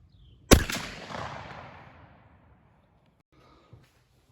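A single loud, close 28 gauge shotgun blast fired through a Carlson's improved modified sporting clays choke with a Winchester AA-HS 300-grain number 7 steel shot load at 35 yards, followed by a decaying outdoor echo.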